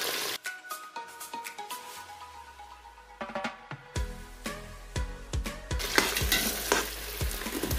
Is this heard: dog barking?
no